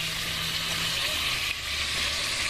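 Oxtail pieces browning in a cast-iron potjie pot, a steady bright sizzle and crackle of meat frying throughout, close and even in loudness, with a faint low hum underneath.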